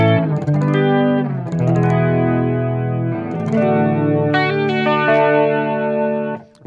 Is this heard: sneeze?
no